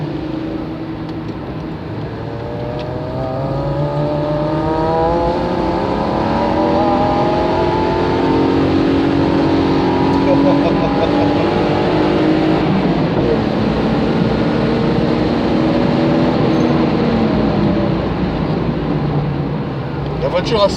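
A Toyota Celica engine pulls hard while driving, its note climbing and falling through repeated accelerations, loud and close throughout, with someone talking over it.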